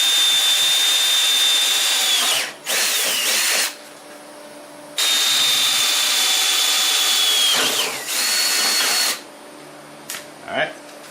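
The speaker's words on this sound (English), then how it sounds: "when I punch the hole with the drill, the tie strap's going to fit in the hole nicely" A power drill whines through the plastic of a Husqvarna Z-54 zero-turn mower to make a hole for a tie strap, two long steady high-pitched runs, each trailing off into shorter bursts and spin-downs, close and loud.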